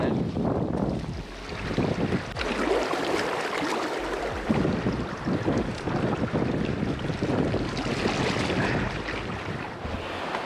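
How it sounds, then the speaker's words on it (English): Strong wind gusting across a riverbank while fly fishing for wild redband trout in November, a loud, constant roaring buffet hitting the microphone, with rushing water underneath and no voices. "it's getting real windy, real tough to fish"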